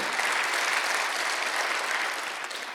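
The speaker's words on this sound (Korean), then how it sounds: "박수." A congregation claps together during a Sunday worship service at a Korean church, a sustained wash of applause that holds steady and tapers slightly toward the end, with no voices over it.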